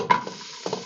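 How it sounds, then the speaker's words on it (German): Onions going into hot oil for a pumpkin soup give a brief sizzle with two short bursts of stirring, close and fairly loud. "Und darin brate ich jetzt gleich mal die Zwiebeln an"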